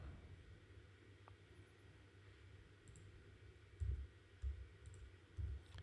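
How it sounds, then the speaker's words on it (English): A few soft clicks of computer keyboard keys, sparse and irregular, over a faint steady hum, with no talking. "every time I hit something on the keyboard"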